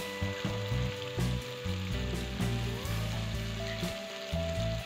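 Chana masala paste sizzles steadily in hot oil for Varanasi-style chana masala chaat, a close, continuous frying hiss with no voices.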